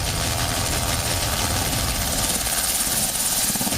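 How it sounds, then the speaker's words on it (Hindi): Steady roar of an Mi-17 multipurpose military helicopter passing over at an air show on an expressway, dense rotor and engine noise holding loud and unbroken throughout. "ये Mi-17 मल्टीपर्पज हेलीकॉप्टर है, सर्च एंड रेस्क्यू में पारंगत"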